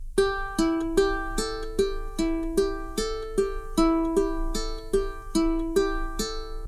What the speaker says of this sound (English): Now let's try our 3rd ukulele finger picking pattern